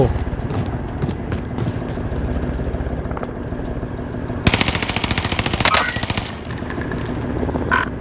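AS-44 rifle gunfire in Call of Duty Warzone: loud close bursts of rapid automatic shots, a sustained dense string of rounds in the middle, over game ambience with a player's voice exclaiming in between.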